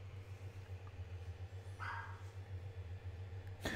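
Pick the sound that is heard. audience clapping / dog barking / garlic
dog barking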